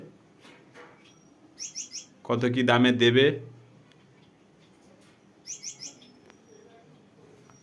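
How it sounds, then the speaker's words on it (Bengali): Caged Cremino fisher birds chirping in short bursts of high tweets, with a brief louder bird call in the middle, alongside someone talking. "এই ক্রিমিনো ফিশারটা খুব হেলদি পাখি আছে"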